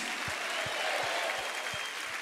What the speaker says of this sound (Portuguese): Vamos aplaudir essas pessoas aqui, irmãos. Olha aplaudir forte, por favor.